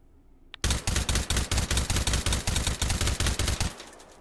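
A suppressed M16 rifle in the H3VR virtual reality shooting game fires a fast, steady string of about fifteen muffled, even shots after a faint click, then stops and lets a short echo fade.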